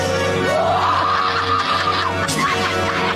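A woman lets out a loud, sustained scream at the Oscars ceremony. The high, wavering cry rises and holds for about two seconds over a low background hum.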